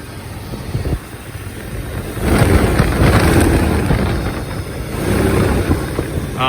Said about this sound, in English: That sound you're hearing is the intake here, sucking in air.